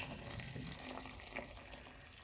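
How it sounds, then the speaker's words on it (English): Water pours and gurgles steadily into a cooking pot of vegetables, fairly quiet and continuous, with no voices. "I'm going to pour water in until it covers the veg"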